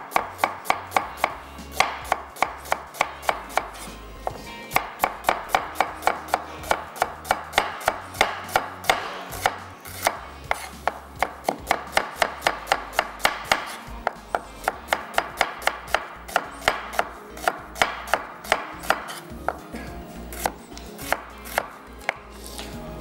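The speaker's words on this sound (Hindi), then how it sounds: "सबसे पहले प्याज को करेंगे स्लाइस।" Onions are sliced with a knife on a board, a long run of rapid, evenly spaced chopping taps close by, with brief pauses between bursts and no speech.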